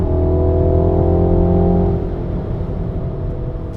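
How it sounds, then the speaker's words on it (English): A 2018 MINI Hatch John Cooper Works engine drones loud and steady against the soft rev limiter, then the tone drops and settles into a lower road roar from inside the car. "In manual mode, Mini JCW will let you hit the limiter and it'll hold you there."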